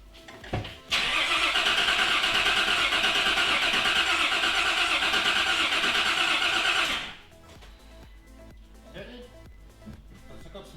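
A freshly rebuilt Nissan VQ35DE V6 fires up with a sharp start, then holds a loud, steady roar close by for about six seconds before cutting off abruptly, leaving quiet clinks and faint voices afterward.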